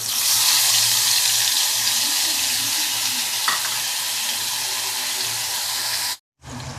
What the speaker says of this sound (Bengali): এবার এর মধ্যে যে পেস্টটা বানিয়ে রেখেছিলাম পেস্টটা দিয়ে দেব